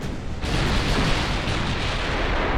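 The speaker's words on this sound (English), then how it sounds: "Battleship Shogun opening up with her 14-inch guns." Battleship Shogun firing its 14-inch guns in the naval game Ultimate Admiral Dreadnoughts: a loud, booming broadside that swells into a dense, sustained roar of cannon fire and rumble, with no talking.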